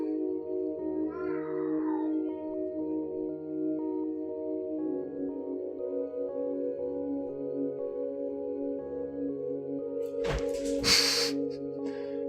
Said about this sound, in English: why am I being distracted by my cat?